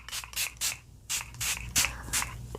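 Several short, soft bursts of makeup setting spray hiss close by in an irregular rhythm, separated by brief quiet pauses.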